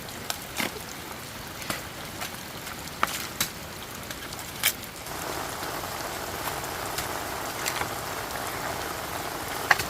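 Heavy rain pours steadily onto a construction site where a kitchen wall is being built, a constant wash of drops punctuated by sharp spatters and clicks, with the downpour thickening partway through.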